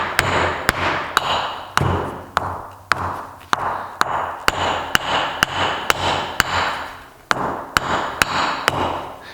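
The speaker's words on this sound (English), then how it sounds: "I'm just gonna start by taking the axe to the toe" An axe hammers the toe of a shoe sold as indestructible, again and again, with sharp close blows landing roughly every half second amid rustling and scraping.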